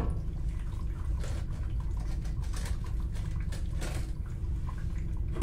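Water drains slowly down a clogged main pipe line, giving faint, irregular gurgles and drips under a low, constant background hum.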